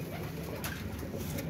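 A teddy pigeon coos in a steady, low, throaty murmur that carries on unbroken through the moment, close and fairly quiet, with no one talking.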